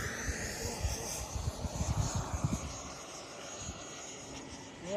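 XFLY 80mm T7A RC jet flying on a 6S battery: a distant, faint whooshing whine from the electric ducted fan that swells and fades as it passes, over low outdoor wind rumble.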